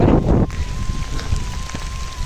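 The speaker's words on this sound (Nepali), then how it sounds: "लङ टाइम पछि परेको पानी" Long-awaited rain driven by a strong gusty wind, a loud rush of wind buffeting the microphone at first, then a steady windy wash of rain with a faint tonal hum.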